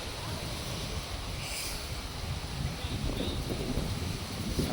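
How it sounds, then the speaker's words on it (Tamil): Strong mountain wind roars across the microphone in a continuous gusty rush, growing slightly louder toward the end, high on Rangamalai. "இங்கே காற்று வந்து உண்மையாக அந்த மூலிகை காற்று பயங்கரமான காற்று"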